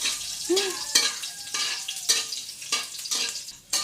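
Food fries in a pan at home with bursts of sizzling, broken up by several stirs and scrapes at an uneven pace, close and fairly loud.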